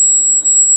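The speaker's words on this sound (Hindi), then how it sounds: "ये अलार्म आपका इस मशीन से आता है कि आपका जो जोन नंबर वन है उसमें प्रॉब्लम है" A fire alarm control panel signals a fault on zone one with a loud, continuous high-pitched electronic tone, heard close and alone.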